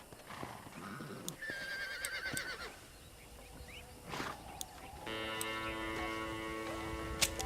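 Horses clip-clop along with hoofbeats and a whinny, followed by a rolling rattle of a stagecoach with creaking wheels and harness jingles, in the video game Red Dead Redemption.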